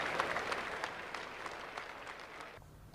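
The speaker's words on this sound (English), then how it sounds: "they're going to cheer him off the ground." A cricket crowd at the 1986 Adelaide Test between India and Australia applauds and cheers a bowler off the ground, a broad wash of clapping that fades away near the end.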